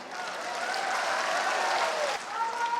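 A large crowd at a political rally claps steadily, a dense, continuous patter of applause with a brief dip near the end, while a voice carries faintly beneath it.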